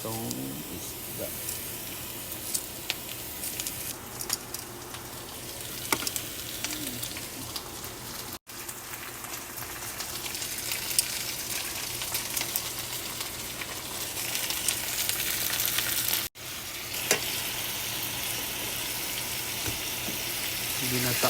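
Fish sizzles in a hot pan while ginataang isda sa dilaw, fish in turmeric and coconut milk, is being cooked. A continuous, fairly loud frying hiss with occasional spitting crackles runs throughout, interrupted by two abrupt dropouts.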